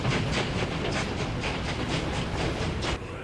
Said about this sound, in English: And here it is, our first train.